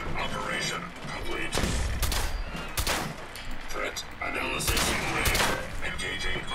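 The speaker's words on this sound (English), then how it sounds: "here's three frag grenades." Frag grenades exploding in the video game Fallout 4, heard as loud booming blasts with crackling gunfire-like bursts, several in a row over a dense, noisy game soundtrack.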